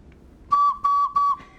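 Three short, pure whistling notes from homemade organ pipes, worn from years of rough treatment, sound in quick succession, each with a breathy onset and a slight pitch drop at the end.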